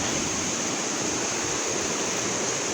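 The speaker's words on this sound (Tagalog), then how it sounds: "Ito, mayroon pa dito maliit na waterfalls." A small forest waterfall gives off a steady, loud, broadband rush of falling water up close, with no breaks and no talking.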